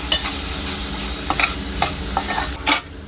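Soybean and cabbage curry being stirred in a hot pan over high flame, a loud continuous sizzle broken by repeated scraping strokes of a spoon against the metal, close up with no voices.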